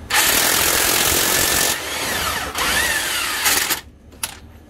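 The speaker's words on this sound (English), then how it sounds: "So now we're going to try it with the impact wrench." An impact wrench loosening the harmonic balancer bolt on a 2014 FJ Cruiser during a supercharger install, roaring loudly in sustained rattling bursts with a brief dip midway, then cutting off into a few short trailing clanks.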